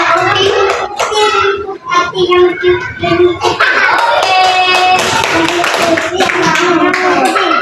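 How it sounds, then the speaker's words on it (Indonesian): A classroom of children clap their hands in unison in a rhythmic clapping pattern, with a teacher's voice and children's chatter mixed in over the clapping. "Tepuk tangan dulu."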